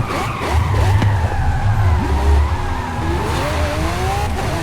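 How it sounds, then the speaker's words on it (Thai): A Lamborghini Aventador races in Forza Horizon 5, its engine rising and falling through quick gear shifts as tires squeal, loud and close with a continuous roar. "ชอบเสียงเกียร์เวลา ตบเกียร์ปื๊ดปื๊ดปื๊ดปื๊ด"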